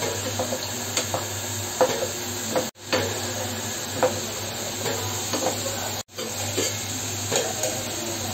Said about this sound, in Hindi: इनको हम स्लो फ्लेम पर ही फ्राई करेंगे।